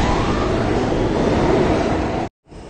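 A westbound N local subway train roars loudly and steadily through 57th Street station, a dense rumble that cuts out abruptly near the end and gives way to a quieter hum.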